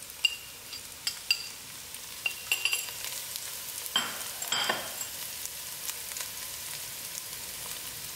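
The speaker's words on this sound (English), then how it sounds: "I stirred it in for a few minutes" Spices stirred into a pot of chunky butternut soup over the heat, giving a quiet, steady sizzle broken by scattered utensil scrapes and light clinks against the pot.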